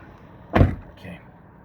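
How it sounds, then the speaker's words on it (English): A single solid thud as the door of a 2017 Ford Police Utility is shut from close by, followed by a faint rattle and quiet surroundings. "Let me close the door."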